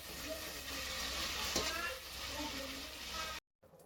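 Onions sautéing in hot oil until golden: a steady, moderately close sizzle and crackle with a faint voice underneath, cutting off abruptly near the end.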